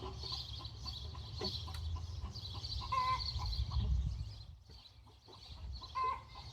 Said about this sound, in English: You can hear the chickens over there singing their egg song morning serenade